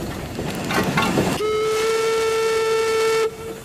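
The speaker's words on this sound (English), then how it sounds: "This elegant launch can go upstream or downstream irrespective of the wind. It's powered by a small steam engine." A small steam engine powers an elegant launch boat. Mechanical chugging opens the passage, then a clear, steady steam whistle sounds for about two seconds at close range and cuts off.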